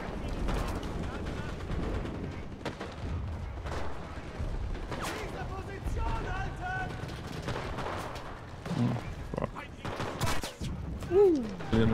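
Rapid bursts of gunfire and booming explosion blasts in the video game Enlisted crowd together, loud and dense, with a player's voice talking and shouting over the fighting.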